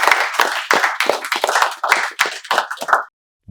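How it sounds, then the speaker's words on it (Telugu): Hands clap in a quick, steady run of about a dozen sharp claps, close and clear with no talking, welcoming viewers to a live spoken English class. "సో మేము మీకు చప్పట్లతో స్వాగతాన్ని తెలియజేస్తున్నాం."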